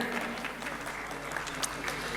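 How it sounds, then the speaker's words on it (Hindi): An audience at an Urdu mushaira in Sargodha applauds poet Ebrar Hussain, steady clapping heard from a distance, fairly faint, with a few sharper claps standing out. "आप सबकी भरपूर तालियों में इब्रार हुसैन"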